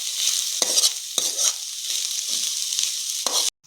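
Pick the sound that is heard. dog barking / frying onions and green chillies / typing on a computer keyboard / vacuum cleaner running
frying onions and green chillies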